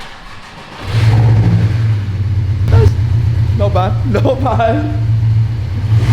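A Porsche 718 Cayman S 2.5-litre four-cylinder engine revs hard and holds a loud, steady drone close by, while someone speaks briefly over it.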